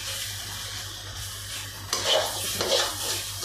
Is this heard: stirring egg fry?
yes